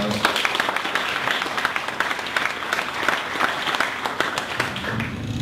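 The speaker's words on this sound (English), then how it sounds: "let's give Erin another round of applause" An audience at a marketing talk by Erin O'Neill gives her a sustained round of applause, dense clapping filling the whole span at a steady level, with a voice briefly audible beneath it.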